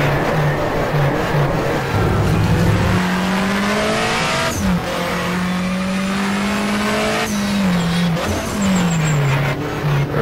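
A race car in the rFactor simulator roars loudly and continuously through the gears, engine pitch climbing and dropping with each shift and lift, with brief tire squeal as it works through corners.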